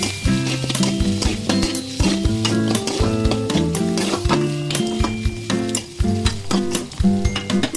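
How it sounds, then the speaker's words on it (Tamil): Onion and green chillies sautéing in hot oil with mustard seeds and urad dal, a steady close sizzle broken by repeated stirring scrapes, with strong tonal music running throughout. "அப்புறம் வெங்காயம் போட்டு வதக்கிக்கலாம்."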